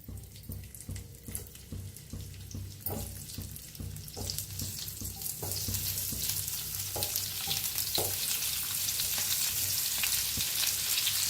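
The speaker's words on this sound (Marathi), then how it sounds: "आता तेल गरम झाले. कारली सोडून घेऊया तेलात." Pieces of bitter gourd dropping into hot oil in a pan on a gas stove, a steady frying sizzle that grows denser and louder partway through, with scattered clicks and light scraping, no voices.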